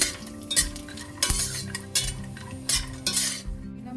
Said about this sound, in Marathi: त्याच्यामध्ये एक चमचा तेल टाकून पुन्हा तेलामध्ये शेंगदाणे आणि खोबरे परतून घ्यायचे